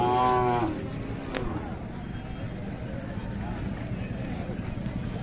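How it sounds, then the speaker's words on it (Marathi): A Khillar cow at a cattle market in Sangola lets out one brief moo at the start, then crowd noise and people talking fill the rest. "पाहू शकता अशा प्रकारची गाय आहे"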